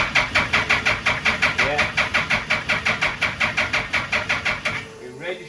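A Suzuki Hayabusa engine fitted in a Mini runs with a fast, rhythmic pulsing beat, loud and close, about two pulses per second before easing off near the end; a voice briefly speaks over it.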